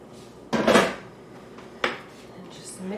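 Baked macaroni and cheese au gratin ingredients being mixed in a baking dish, with two distinct bursts of scraping and clinking from a utensil against the dish over a low room background, no talking.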